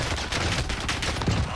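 Rapid bursts of automatic fire from a gold-skinned gun in Warzone, shots packed closely together and steady but fairly quiet over the short stretch.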